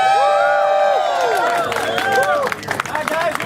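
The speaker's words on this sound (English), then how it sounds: "everyone give a round of applause" Crowd at a bacon eating contest breaks into applause and cheering, with whoops and shouted voices over scattered clapping, loud and close, the sound thinning toward the end.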